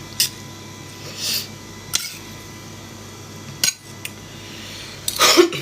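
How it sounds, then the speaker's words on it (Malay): Eggs stirred with a metal utensil against a dish, giving a few brief scraping clinks spread over a few seconds, with a busier cluster of clatter near the end, fairly close and moderate in level. "kacau lah telur ni. Nak gaul jap."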